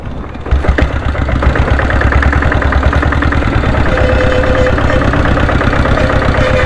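Diesel Bullet motorcycle with a 7.5HP engine on a test ride, a loud, close, rapid thumping chug that starts abruptly and holds steady throughout.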